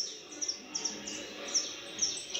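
Caged canaries give short, bright repeated chirps at a fairly regular pace, clear and close, over a soft steady room hiss with no talking.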